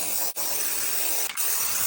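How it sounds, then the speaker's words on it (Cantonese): A hand-held aerosol can of wall spray paint is used to cover moldy, pencil-marked wall spots. The spray gives a steady, close hiss that drops out for two brief moments, with no talk over it. "而家我哋攞隻手噴漆試試得唔得？"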